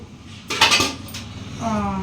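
A short burst of dishes and cutlery clinking together close by, followed by a lighter scrape of a plate.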